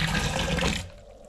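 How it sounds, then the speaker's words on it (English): Hot water gushes into emptied liquid malt extract tins during homebrewing, a loud rushing pour that drops off sharply to a quieter trickle near the end. "we've got our tins filled up, hot water again, and just give them a quick blast with a spoon"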